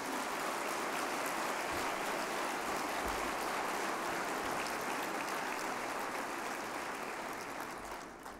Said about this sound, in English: Would you please join me in a round of applause for these sponsors?